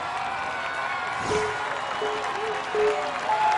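Spectators on the sideline of an American Ninja Warrior obstacle course cheer, whoop and applaud in a continuous crowd roar with occasional sharp whistles cutting through.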